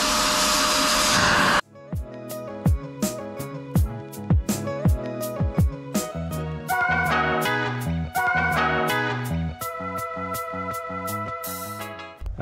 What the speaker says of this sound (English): as you vacuum, it sucks all the dirt and the water up with it.